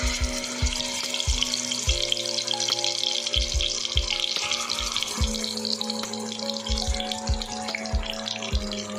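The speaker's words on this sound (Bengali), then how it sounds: "এবার এতে ম্যারিনেট করা মাছগুলো ভেজে নেব।" Marinated Bhola fish fries in hot oil with a steady, close crackling sizzle, broken by regular low knocks and taps, likely from a utensil.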